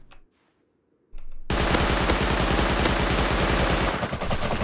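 Rapid automatic AK rifle fire in the survival game Rust starts abruptly after a near-silent moment and continues as a loud, dense, sustained burst of shots, up close and with no talking.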